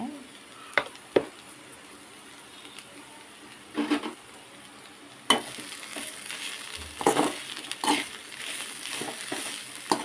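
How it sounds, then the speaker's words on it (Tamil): Radish greens being stirred in a pan as they cook, with soft intermittent scrapes and a steady low sizzle, plus brief louder stirring bursts near the end. "நல்லா கிண்டி விட்டு கொஞ்சம் நேரம் வேக விட்டுக்கலாம்"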